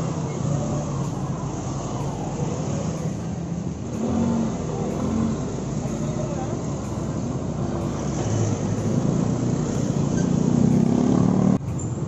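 An Easyride 150N scooter fitted with a GY6 torque drive drones steadily as it accelerates, with the engine note climbing over a continuous rush of road and wind noise.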